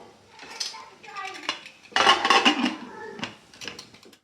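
A spoon stirs salt into cassava biryani in a metal pot, clanking and scraping in several uneven bursts with one louder rattle in the middle. The sounds are close and there is no talk.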